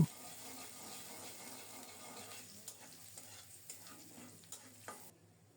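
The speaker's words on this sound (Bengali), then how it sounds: "সরিষার তেল দিলাম, কুচানো পেঁয়াজ দিয়েছি, পেঁয়াজটাকে লালচে করে ভেজে নেব।" Chopped onion frying in mustard oil, a steady broadband sizzle with occasional stirring scrapes and clicks, moderately quiet and fading out at the end, with no talk.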